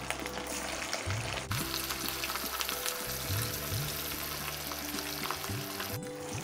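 Pieces of katla fish frying in hot oil, a dense continuous sizzle and crackle at close range, with low clattering bumps of a utensil against the pan.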